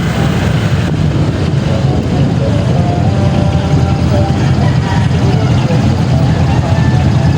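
Road traffic around a rider on a Honda Supra GTR150 FI motorcycle, a loud, continuous rumble of engines and passing vehicles, dense and steady with wind buffeting close to the microphone.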